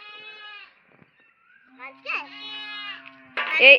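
Goats bleat in several close, loud calls, one at the start and then repeated bleats in the later half, while a few quieter voices talk in between.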